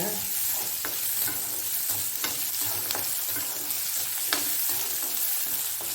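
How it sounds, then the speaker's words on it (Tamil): Onions sauté in a pan while a utensil stirs them, giving a steady close sizzle with repeated sharp scrapes and knocks against the pan, and no talking. "வெங்காயம் நல்லா வதங்கும்"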